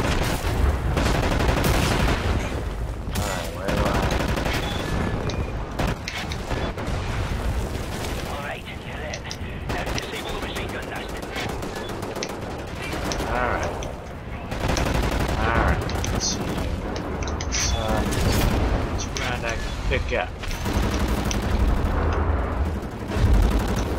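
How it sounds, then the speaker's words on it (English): Sustained bursts of submachine gun fire in the Wolfenstein: The New Order war shooter, rattling loudly and almost without pause amid booming explosions and battle noise, with voices shouting over the din. "Submachine gun."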